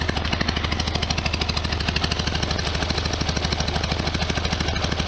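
A 1973 VW Super Beetle engine idles after a valve cover gasket, oil and filter change, beating out a steady, even chuff of rapid low pulses, close and fairly loud, with no talking.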